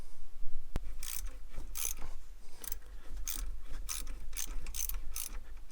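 Hand ratchet clicking in repeated bursts while removing catalytic converter and exhaust bolts underneath a 2007 Saturn Sky, close and fairly loud over a steady low hum, about eight quick ratcheting strokes.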